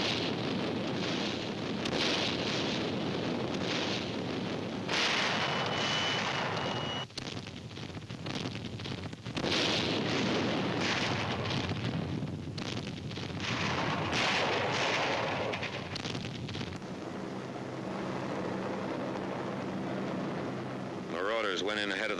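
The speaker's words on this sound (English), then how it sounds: "The naval bombardment continues." Heavy naval bombardment in a World War II documentary, with continuous rumbling artillery fire and blasts against enemy coastal installations, loud and sustained throughout under a dense roar.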